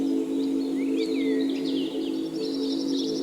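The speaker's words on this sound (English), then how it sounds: "Then you hear the birds chirping" Birds chirp in a music track, a few quick sweeping tweets over a steady sustained synth tone, fairly quiet.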